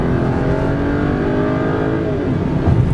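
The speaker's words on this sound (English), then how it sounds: "You feel that big 6 wind out." A 2009 BMW 328i convertible's six-cylinder engine accelerates hard, a steady, rising rev heard from inside the car and loud throughout with no talking.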